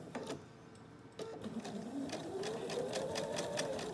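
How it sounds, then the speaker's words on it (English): A sewing machine stitches a long straight quarter-inch seam on pinned quilt pieces, a fast steady mechanical whir with rhythmic ticking, close and moderately quiet, without talk. "I'm gonna sew this long seam."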